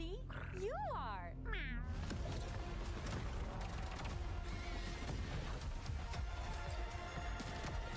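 A pet cat meows, with rising and falling cries early on, followed by clattering and rustling noise and people talking in the background.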